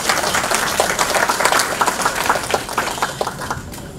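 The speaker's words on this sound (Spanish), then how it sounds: "Un aplauso para el señor Miguel." An audience at a community talk on dengue, chikungunya and Zika claps for a guest named Miguel, dense sustained applause close by with a few sharper individual claps.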